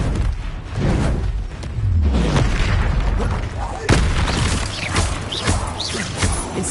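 An Expelliarmus disarming spell fires in the Hogwarts Legacy video game, booming impacts and crashes with a sharp hit partway through, amid loud combat noise and a voice.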